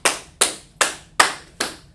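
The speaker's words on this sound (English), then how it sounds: "Let's clap it up for him." Five sharp, evenly spaced claps in slow unison, close and crisp with quick decays between, no talking.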